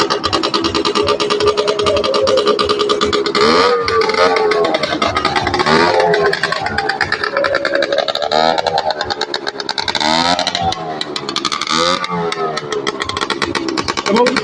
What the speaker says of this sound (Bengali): এই যে মোটর সাইকেল আপনার কি বলে স্টার্ট চলছে, স্টার্ট দিয়েছে